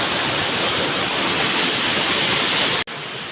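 Rushing water from a stream at Pavankhind pours in a steady, loud, broadband roar with no letup, cutting off abruptly just before the end before the flow resumes.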